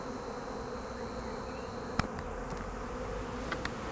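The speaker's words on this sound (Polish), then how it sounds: "przejdziemy jeszcze naprzód ula żeby pokazać jak ta rodzina na wylotku tańczy" Honeybee colony humming steadily at the entrance of a weakened hive in an apiary, a dense continuous buzz with a few faint clicks, close and even throughout.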